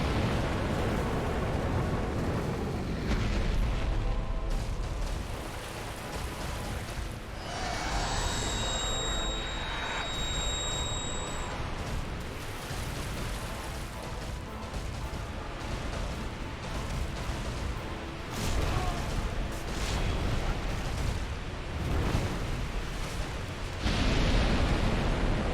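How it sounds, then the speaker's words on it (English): A monster's fire breath attack in Dark Souls roars as a long, loud, rushing blast with a broad hiss, surging and fading over many seconds amid game effects. "Okay, fire breath."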